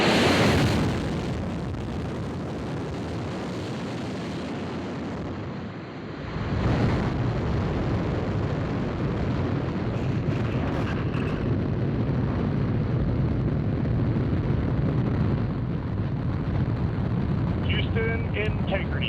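Rocket core stage engines igniting for a crewed moon mission launch, a loud sustained broadband roar that swells after a brief dip and holds steady, with launch-control voices talking over it.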